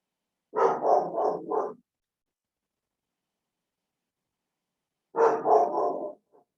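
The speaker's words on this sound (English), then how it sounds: "I'm going to find out what the dog is going crazy about" A dog barks excitedly in two short bursts of rapid, clustered barks separated by a few seconds of silence, fairly close and loud with nothing else around.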